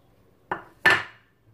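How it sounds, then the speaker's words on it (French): Chopped onion, coriander and parsley are dropped into a dish for a meat marinade, two short close knocks against the bowl in quick succession, then quiet. "Je vais mettre l'oignon, la coriandre et le persil"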